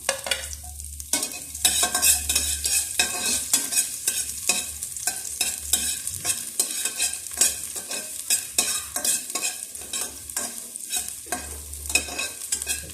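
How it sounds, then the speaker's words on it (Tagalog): Chopped garlic sizzles and crackles steadily in hot cooking oil for chicken adobo, a dense close frying hiss with scattered pops and scraping from a spatula, no voices. "Yan, mainit na mantika. Bawang."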